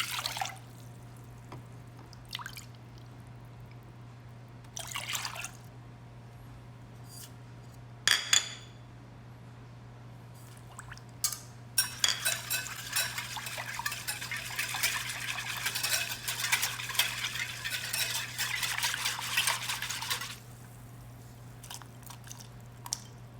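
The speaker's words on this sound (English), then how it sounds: "Now keep mixing until the salt is dissolved." Vinegar, garlic, black peppercorns and salt are stirred together in a large bowl for a chicken marinade, giving a wet, scraping swish that grows louder and continuous midway, with a few isolated clinks and drips before it.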